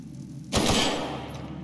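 Gunfire in the video game Outer Worlds: one sharp, loud shot bursts out after a quiet stretch and then rings off in a fading tail.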